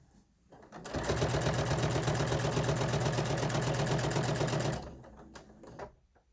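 A sewing machine fitted with a binding foot stitches bias binding in one steady, close mechanical run of rapid needle rhythm lasting about four seconds, with quiet handling noises before and after.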